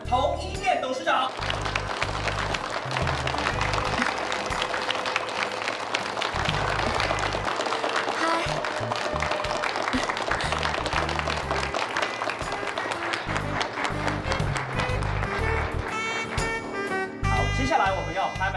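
Audience at a charity auction clapping in warm applause, a dense continuous burst of many hands that carries on for the whole stretch with music and some voices underneath.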